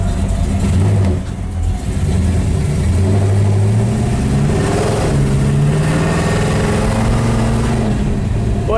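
A 1963 Dodge Ramcharger clone's big V8 pulls hard with rising, wavering revs and a deep throaty roar, loud and close as the car accelerates through gear changes on a test drive.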